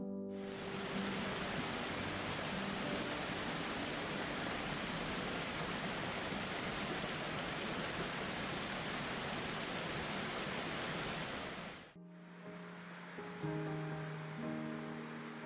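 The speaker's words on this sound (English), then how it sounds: "Detian Waterfall is the fourth largest waterfall in the world, located at the border between China and Vietnam" Detian Waterfall, on the China–Vietnam border, roars as a steady, dense wash of falling water that holds loud and unbroken for about twelve seconds before abruptly giving way to a quieter, thinner background.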